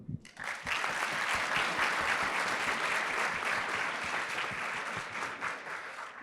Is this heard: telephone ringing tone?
no